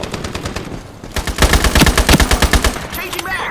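An AK rifle in the Ironsight video game fires loud, close bursts of automatic gunfire. A short burst comes early, then a longer rapid volley runs through the middle before stopping.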